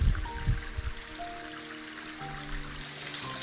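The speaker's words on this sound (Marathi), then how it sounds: "अजून पण पाणी वाहते" Steady water flowing and trickling, like a small stream, continuous and moderately close, with no voices over it.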